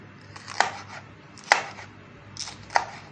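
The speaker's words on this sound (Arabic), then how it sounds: "هو بس هنقطع الخضار الاول، الفلفل" Knife chopping peppers on a cutting board: three sharp, separate knocks spaced about a second apart, close and clear over a soft hiss.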